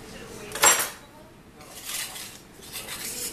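Metal baking pans clatter and clink as banana cakes are knocked loose and lifted out, one sharp bang early followed by softer scraping and handling sounds at close range.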